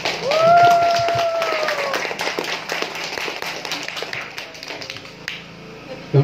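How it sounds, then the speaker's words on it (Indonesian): Guests clapping at a Dayak wedding ceremony, a dense burst of hand claps from a crowd that tapers off gradually, with a shrill whistle or voice tone sounding early on. "Tepuk tangan yang meriah"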